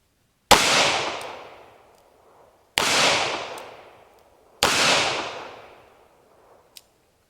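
Three sharp, loud gunshots from a .38 Special handgun fired one-handed, spaced about two seconds apart, each with a long ringing echo that fades away, followed by a small metallic click.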